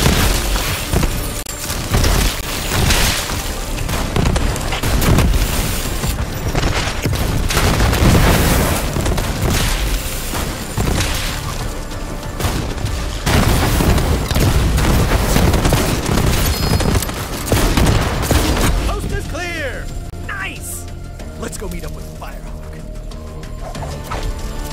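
Gunfire and explosions in Borderlands: a sustained, loud barrage of shots and booming blasts that keeps on without pause, then eases into a lighter, sparser stretch near the end.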